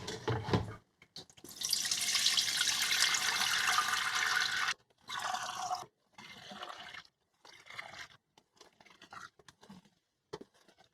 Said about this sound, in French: À présent, on va drainer au-dessus d'un chaudron avec une passoire et un coton